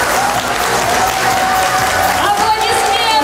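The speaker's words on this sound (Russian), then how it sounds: "Аплодисменты!" Studio audience applause at a televised prize giveaway, loud and dense, with a tonal musical jingle running through and rising bright accents toward the end.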